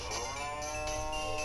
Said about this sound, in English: Let me go ahead and go to the cows here.